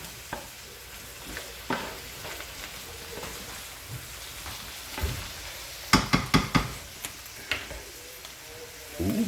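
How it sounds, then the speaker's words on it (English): Vegetables fry in a pan under a constant soft sizzle, stirred with scattered scrapes, then a quick run of sharp knocks and taps of the spoon on the pan edge. "So just keep stirring it up until, you know, we're gonna get the vegetables done"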